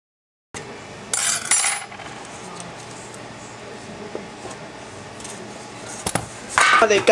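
A knife and plate handling a homemade chocolate cake in a kitchen, with sharp metallic clinks and scrapes in short bursts near the start and again toward the end, close and fairly loud over quiet room tone.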